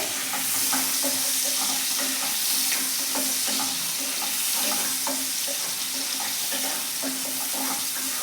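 Onion sautéing in a pan with garlic and green chilli for a dal tadka, a constant close sizzle broken by regular scraping and clicking stirs, with no voices.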